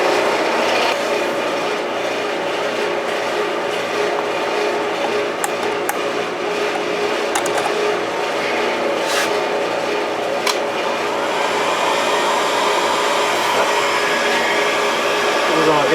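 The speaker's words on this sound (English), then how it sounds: "Let's get a heat gun." A heat gun blows steadily and loudly at close range while warming a part during a Stihl TS400 cut-off saw build, a continuous roaring whoosh with faint clicks and knocks and no speech.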